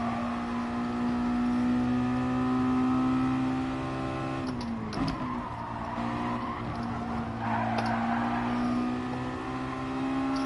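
Racing car engines drone steadily in Gran Turismo, with a brief tire skid and shifting engine pitch mid-race, no talk, fairly quiet.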